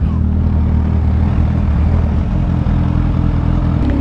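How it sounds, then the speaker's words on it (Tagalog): A supercharged motorcycle engine idles steadily to cool down after a ride, a constant low rumble heard up close for the whole stretch with no pauses. "Hindi ko agad pinapatay ito dahil ito ay mayroong supercharge."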